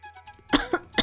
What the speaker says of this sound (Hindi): माँ की खांसी की आवाज पर भी किसी ने ध्यान नहीं दिया।